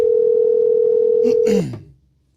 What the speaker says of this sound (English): We're going to interrupt this broadcast for a phone call.